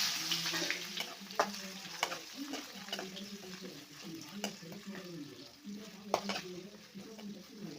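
Sliced onion with cinnamon, cloves and cardamom sizzles steadily in a pan for paneer gravy, with scraping stirs breaking in now and then while someone talks over the frying.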